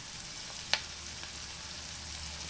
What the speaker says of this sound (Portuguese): Agora já podemos colocar o nosso tomate picadinho